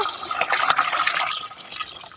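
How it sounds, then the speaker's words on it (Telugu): Water is poured from a bucket into two small mugs, giving a steady splashing fill that carries close and fairly loud for about two seconds before tapering off. "ఇప్పుడు ఈ 2 మగ్గులు ఉన్నాయి అనుకోండి, కొంచెం నీళ్ళు పోస్తున్నాను."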